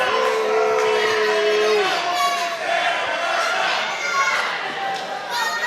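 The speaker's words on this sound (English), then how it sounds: "The crowd not a fan of rabid Rudy Rodgers as Rudy connects with a drop kick here" A wrestling arena crowd jeers and shouts against a wrestler in a loud, continuous wash of voices, with one sustained yell standing out early on.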